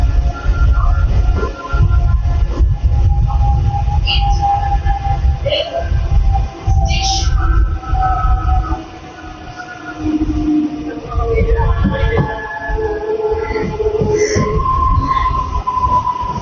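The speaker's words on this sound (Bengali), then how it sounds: "আমাদের ট্রেন লিলুয়া ছেড়ে বেরোচ্ছে।" Howrah–Bandel local train pulling out of Liluah station, a loud, steady rumble of wheels and carriages with squeals and clatter rising over the running noise throughout.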